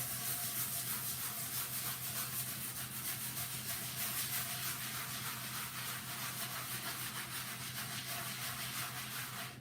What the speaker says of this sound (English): But if I take my little cleanser concoction and a scouring pad